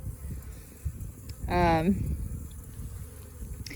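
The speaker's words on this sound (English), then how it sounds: "I'm so not really surprised by the amount of bees in here." A low, continuous hum of many honeybees fills an open hive box in winter, close and steady, with a single bee passing loudly nearby partway through and a voice speaking briefly.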